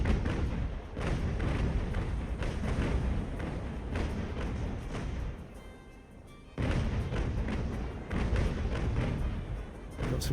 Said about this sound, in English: Drop the speed, full broadside.